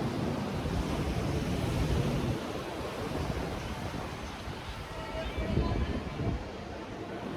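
Ocean waves wash onto the shore at a beach resort in Tulum, a steady, moderately loud roar of surf with swelling crashes and some wind buffeting the microphone, heard without voices.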